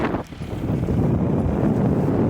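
Wind gusts across an open hay field cut into swaths for small square baling, a steady close rush with blustery buffeting against the microphone.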